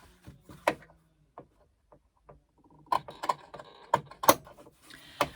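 Scissors snip the fabric corners of a tote bag in a handful of sharp, close cuts, spaced irregularly with quiet gaps between them.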